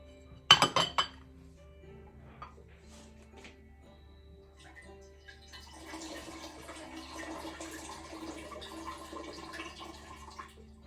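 A drinking glass gives a sharp clink, then water drains out of it in a soft, trickling splash lasting several seconds, close and fairly quiet.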